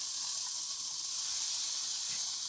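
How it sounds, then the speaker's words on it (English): Peeled tomatoes in tomato sauce go into a hot pan for eggplant pasta alla Norma, giving a continuous soft, bright hiss and sizzle that stays even and fairly quiet from start to finish. "Then add peeled tomatoes in tomato sauce or tomato pulp."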